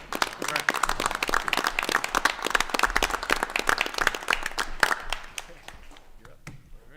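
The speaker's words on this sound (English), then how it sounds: "That deserves an applause." Clapping from a small group at a board of education meeting, a dense patter of hands that runs steadily for several seconds and then thins out toward the end.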